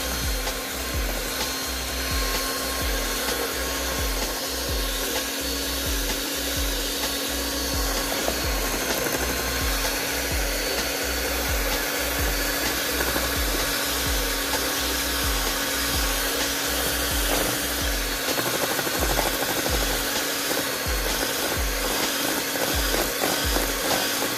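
An electric mixer on low speed whirs steadily through chocolate cake batter, a close, continuous buzzing drone with a rhythmic churning beat lasting throughout.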